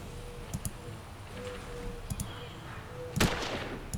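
Gunshots in an open-world shooter video game: a few sharp, distant-sounding cracks scattered through the stretch, with one louder blast near the end over quiet game ambience.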